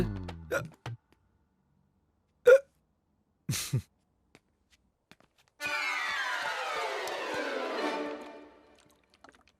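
A few sharp, isolated hiccups pop out with silent gaps between them, followed by a longer gurgling, liquid-like sound that fades away.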